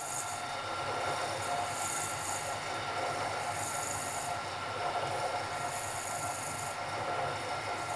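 A four-flute, center-cutting end mill takes light cuts in brass, giving a continuous close rasping grind with brighter, sharper swells that come and go every second or two, and no voices.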